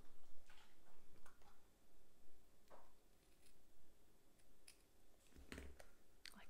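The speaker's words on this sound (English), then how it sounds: "Then I'm going to come in with my paper snips and just cut the ribbon at an angle." Paper snips cutting ribbon at an angle while finishing a criss-cross treat box, giving a few soft, close clicks and snips spread over quiet room tone.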